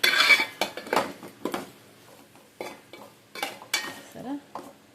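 A metal spoon clinks and scrapes against a pot in a string of sharp, close knocks and stirs with short pauses between them as ingredients are mixed by hand; no one speaks.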